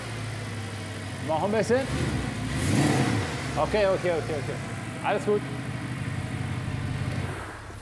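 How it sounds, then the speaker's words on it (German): Mercedes SLS sports car engine idling, then blipped into several short revs that rise and fall, close and loud, with people talking briefly over it. "Gib mal ein bisschen Gas."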